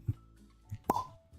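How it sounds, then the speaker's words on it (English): Cork popping out of a liquor bottle: a few soft handling knocks, then one sharp pop followed by a brief ringing tail, close and clear. "Cork pop."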